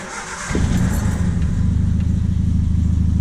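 A warm Triumph Spitfire engine fitted with a Weber carburetor catches after a brief crank and settles straight into a loud, steady, close idle with a rhythmic low pulse.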